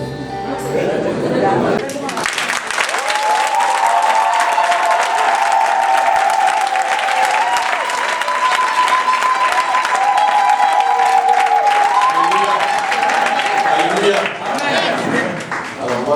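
Church congregation bursting into sustained applause and cheering to acclaim God, loud and dense crowd clapping from about two seconds on with voices rising above it, a speaker talking briefly at the start.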